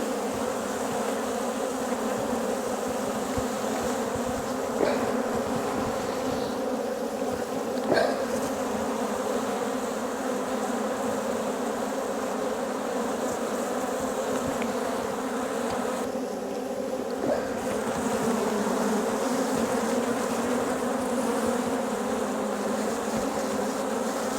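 A swarm of honeybees buzzes loudly and continuously around a beekeeper and the camera, a dense close hum that fills the whole scene with a few brief knocks and bumps, with no talking.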